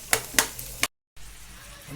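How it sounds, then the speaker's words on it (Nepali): Chopped onions frying in a pan for egg curry give a steady sizzle, broken by a few sharp stirring scrapes and a brief silent cut partway through. No one speaks. "दुईटा ठुलो साइजको प्याज लिने र 4-5 टमाटर लिएर प्याज हालेर रातो हुन्जेलसम्म यसलाई भुज्ने"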